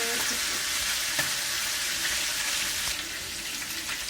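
Chicken pieces frying in a pan of oil for a homestyle Bengali chicken roast, a steady close, dense sizzle with a faint stirring knock, easing slightly in the last second.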